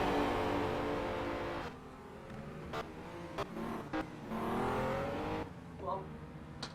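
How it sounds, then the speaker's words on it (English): A Honda NSX race car's engine drones loudly from onboard during a championship race, rising and falling with gear changes, under a commentator's voice. "If this doesn't tempt you to buy the Honda NSX, I'm sure this noise is going to."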